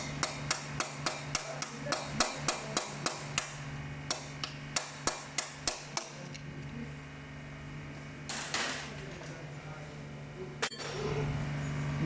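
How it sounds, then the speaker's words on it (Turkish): Metallic tapping while a valve shim is pulled out with a magnet on a Fiat Uno 70S engine during valve adjustment, a quick run of sharp regular clicks, then sparser taps and a brief scrape, close up. "mıknatıs yardımıyla çıkarttık"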